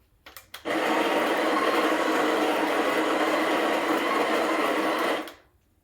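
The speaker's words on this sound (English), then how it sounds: "just keep it grinding for 2 seconds or something like that, just so that it gets rid of the old grind size" A Breville Barista Express BES860 burr grinder grinds coffee beans in one steady, loud whirring burst lasting about five seconds, preceded by a couple of faint clicks and ending with a quick spin-down.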